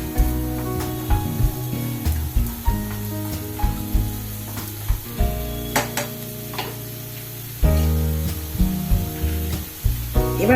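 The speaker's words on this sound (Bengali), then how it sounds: "আবার সব নাড়াচাড়া করে দিচ্ছি।" Prawns in curd sizzle in a pan as a spoon stirs and scrapes through them, with repeated scraping strokes over a steady frying hiss, close and fairly loud.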